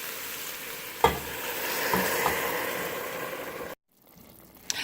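Broth pours into a pan of sizzling caramelized vegetables for a lemongrass broccoli onion vegan miso soup, giving a loud steady hiss with a sharp knock at the start. The sound then cuts to near silence before a final clatter.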